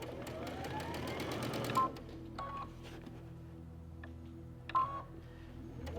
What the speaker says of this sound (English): It does 3 stitches backwards, 3 stitches forwards, cuts the thread, brings the needle up, and lifts the presser foot